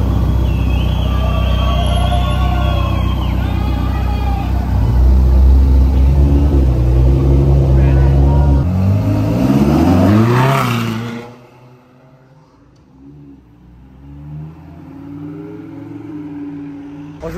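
A Ferrari 458 Speciale with an aftermarket exhaust revs loudly and close, the note rising through several sharp climbs before cutting off abruptly, leaving a lower distant rumble at Top Marques Monaco.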